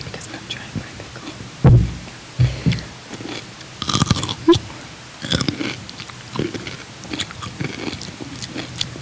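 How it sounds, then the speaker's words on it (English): A crunchy pickle bitten and chewed close up, several sharp crunches followed by softer wet chewing in irregular bursts, with near silence between them. "I'm gonna turn you guys down because I'm trying my pickle."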